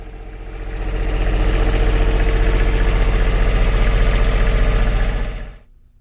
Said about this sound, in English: Generator has an exhaust separator, so it's almost silent outside the boat